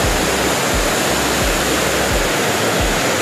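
Barabakhra waterfall in Bargarh, Odisha, swollen by monsoon flow, gives a loud, steady roar of rushing water that fills the whole stretch with dense, unbroken noise and low rumbling pulses underneath.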